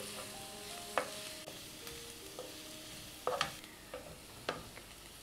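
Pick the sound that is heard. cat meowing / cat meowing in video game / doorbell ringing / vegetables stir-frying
vegetables stir-frying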